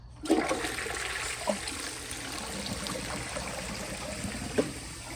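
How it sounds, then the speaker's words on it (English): A 1991 round Cisa toilet flushes, opening with a sharp whoosh and then settling into a steady rushing and trickling of water that continues throughout, close and alone. "So let's give this thing a flush and see how it does."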